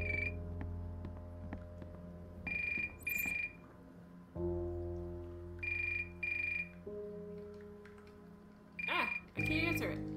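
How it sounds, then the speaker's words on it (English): A phone rings in the video game The Uncertain, sounding in repeated paired electronic bursts over low, droning in-game background tones. "My phone's ringing."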